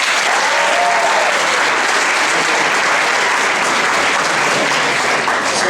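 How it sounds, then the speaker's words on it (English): A comedy-show audience bursts into a loud, steady round of applause that fills the room evenly from start to finish, with no voices rising above the dense clapping. "Just by a round of applause"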